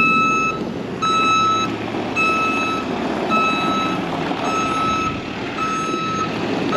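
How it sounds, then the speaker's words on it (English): A large truck rumbles nearby at a construction site while its backup alarm beeps in a steady, evenly spaced rhythm, loud and clear over the engine noise. "That truck's about 4 miles long, it looks like."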